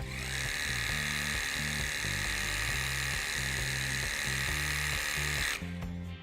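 A WORX Hydroshot portable power cleaner washes dirt off a lawnmower, a steady, high motorized whine that runs without break for several seconds and then cuts off, with no talking.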